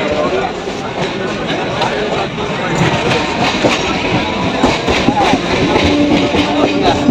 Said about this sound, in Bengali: এখন আমাদের ট্রেন পরবর্তী গন্তব্য স্টেশন বালিগঞ্জ স্টেশনের দিকে এগিয়ে যাচ্ছে